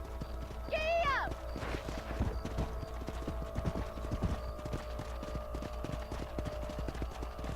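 Horse hooves clip-clop at a steady trot in Red Dead Redemption, a rhythmic clatter running throughout, with a brief whinny near the start and speech and ambient game sound underneath.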